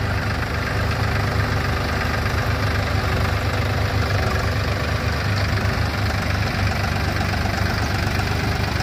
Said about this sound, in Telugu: ఈ రెండు ట్రాక్టర్లు హై గేర్ ఫస్ట్ గేర్లో రాబోతున్నాయి